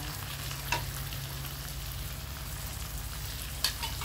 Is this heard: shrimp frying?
yes